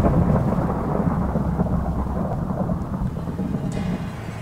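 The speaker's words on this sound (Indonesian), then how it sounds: "tiba-tiba petir" Thunder rumbling during a snowy night in Minecraft, a sustained low roll with rain-like hiss, loud and steady at first and slowly fading, with no talking.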